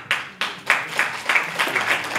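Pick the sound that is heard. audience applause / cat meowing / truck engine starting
audience applause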